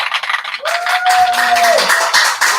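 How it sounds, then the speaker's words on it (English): A crowd claps and applauds loudly and continuously, with a sustained tone and some cheering mixed into the clapping. "Please, ladies and gentlemen, give a big round of applause to Alan Freedman."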